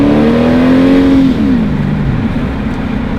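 An automatic VW Golf accelerates close by, its engine note climbing steadily before dropping sharply at a gear change around midway and pulling on at lower revs, loud and continuous with no talk.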